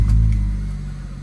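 A car engine idling close up, a deep steady rumble holding for just over a second and slowly fading slightly, with no talking.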